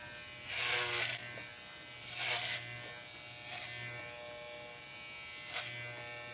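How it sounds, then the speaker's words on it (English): Electric clippers buzz through a woman's hair as she shaves her head, a steady hum that swells in several loud bursts as the blade bites into hair, with quieter stretches between passes. "Says a girl shaving her head."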